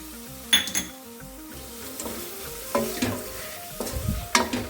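Ground coconut paste hits a hot pan of long beans curry and is stirred, giving a soft sizzle under repeated scraping and clinking strokes of a spoon against the pan.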